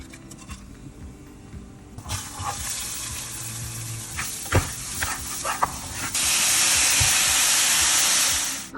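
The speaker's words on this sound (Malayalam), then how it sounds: "നല്ലതായിട്ട് വറുത്തായിരിക്കത്തോട്ട് നല്ല തിളച്ച ചൂടുവെള്ളം ഒഴിച്ചു" Boiling water is poured onto well-fried kaima rice for ghee rice. A hissing sizzle bursts up after a quiet start and swells into a loud, steady steam roar near the end, with no one talking.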